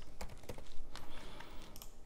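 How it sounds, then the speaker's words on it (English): Fingers tap quickly on a computer keyboard at a desk, a close, steady run of light clicks with a few sharper keystrokes and no voices. "So I'm going to hit a T on my keyboard."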